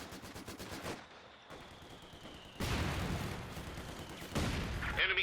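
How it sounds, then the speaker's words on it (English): Vickers machine gun fire in the video game Company of Heroes 2 comes as rattling bursts of rapid shots. The bursts are separated by short pauses, some louder and some quieter, against faint battlefield background. "Yeah, it's a machine gun. It's supposed to hurt."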